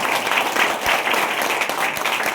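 Audience applause for a teacher at a Hindi poetry event in a village setting, a steady, even wash of many hands clapping at moderate volume, with no voices over it.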